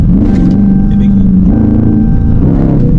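The 392 engine of a Dodge Charger Scat Pack sends a deep, loud rumble up close as the throttle is touched, rising slightly in a brief rev over a steady idle.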